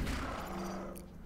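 A heavy cannon blast from the tactical game Into the Breach, one loud booming shot with a long rumbling tail that fades over about a second.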